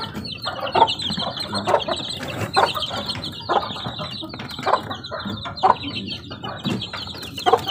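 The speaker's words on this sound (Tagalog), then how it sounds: "Malaki na yung ating sisiw." Young chicks peep and cluck in a farmyard setting, a dense chorus of high repeated chirps with soft clucks close by, continuing steadily without talk.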